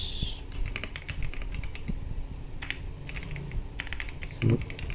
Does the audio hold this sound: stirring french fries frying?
no